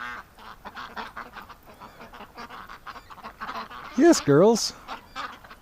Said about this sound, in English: Oh, they're so cute. There's so many pretty ducks.